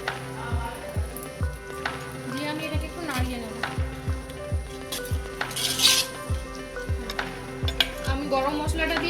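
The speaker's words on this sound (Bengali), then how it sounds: "গরম মশলাটা আমি মিশিয়ে নিয়েছি।" A metal spoon scrapes and knocks against a pan in a steady rhythm while chicken is stirred with garam masala for handi chicken, the clinks close and repeated over a low background hum, with a person speaking intermittently.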